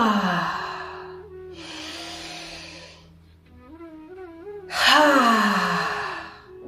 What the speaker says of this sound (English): now exhale through the mouth with a sound ha, and let your shoulders drop down and relax.